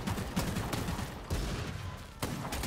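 Gunfire in the Bloodhunt video game, a rapid fusillade of shots with sharp bursts recurring through the passage, dense and fairly close, with no talk over it.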